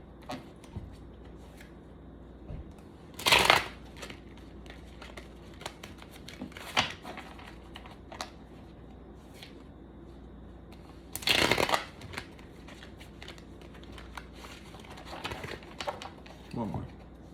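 Tarot cards shuffled by hand in two quick riffling bursts, with softer card handling and tapping between them and a quiet background.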